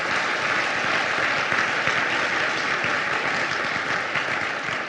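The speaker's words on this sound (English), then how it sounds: "So let's give the mayors a round of applause." Steady audience applause at a gala, dense and continuous clapping from a crowd, holding at an even level for about five seconds with no talking.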